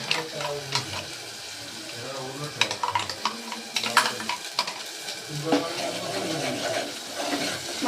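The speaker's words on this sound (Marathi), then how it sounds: "मसाला सगळ्या चांगल्या प्रकारे परतून घ्यायचा." Masala sautéed in a pan with busy, close sizzling and repeated scraping and stirring strokes, irregular and fairly loud, over a faint background of music or voices.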